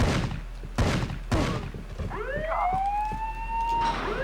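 An alarm siren wails up and settles into a sustained tone in the PS1 game Rainbow Six, preceded by several heavy thuds and gunshot-like bursts, loud and close.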